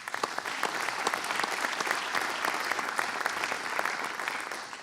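Steady applause from a sizeable conference audience at an opening session, dense clapping sustained evenly throughout without pause.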